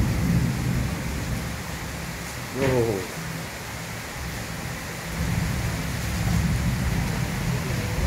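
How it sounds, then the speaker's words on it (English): Thunderstorm in Malaysia: steady, heavy rain hiss fills the scene while low rolling thunder rumbles underneath. A short crack stands out early on, and a deeper rumble swells later. No one speaks. "Flash of lightning, flash of thunder."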